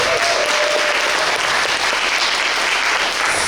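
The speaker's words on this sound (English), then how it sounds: "Please give a round of applause." Loud, sustained applause from a sizable crowd, dense and even throughout with no talking over it.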